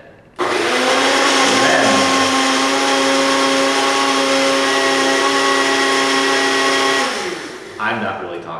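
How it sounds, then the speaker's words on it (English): A blender pureeing salsa whirs loudly and steadily for about seven seconds, then winds down to a stop. "Okay, we're gonna turn the blender. You're gonna puree this."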